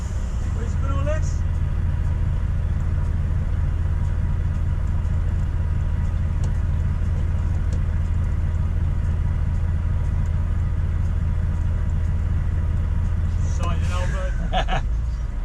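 An MTD 130 ride-on lawn tractor engine runs steadily with a loud low rumble for most of the stretch, then cuts out near the end, while voices are heard faintly over it.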